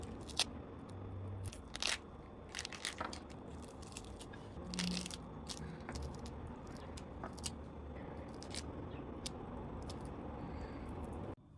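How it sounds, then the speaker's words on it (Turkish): Large pomegranates being seeded by hand, with crisp crackling, snapping and popping as the arils are pried loose, a close, busy, irregular sound that runs without a break and has no speech. "Önce narları ayıklıyorum."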